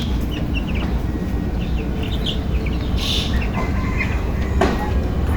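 Thirteen-day-old broiler chickens crowd a poultry shed, filling it with dense, loud overlapping clucks and chirps over a rumbling, rattling background hum.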